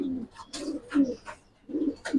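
Young racer pigeons in a loft give soft, close cooing calls, a few low throaty coos in quick succession with brief pauses between.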